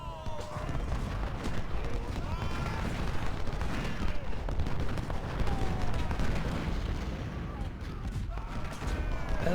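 Musket fire in the Ultimate General: Civil War video game at the Brandy Station battle, dense overlapping volleys and crackling reports forming a continuous battlefield roar, with a voice talking over it.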